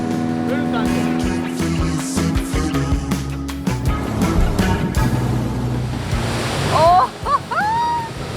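A powerful waterfall pours between cliffs in remote wilderness, a loud, dense roar of rushing water running throughout, with people talking and exclaiming over it and a boat engine adding low rumble.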